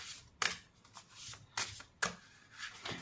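Tarot cards being shuffled and drawn by hand, a few quick crisp riffles and slides at close range, with soft papery rustling between the bursts and no talking.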